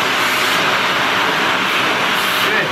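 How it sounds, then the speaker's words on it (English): A vacuum cleaner roars steadily at close range, a loud, continuous whooshing drone that holds without a break, used to groom a corgi. "Can I vacuum you?"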